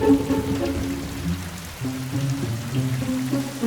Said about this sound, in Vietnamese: Tia chớp lóe sáng, mưa đổ ào ào.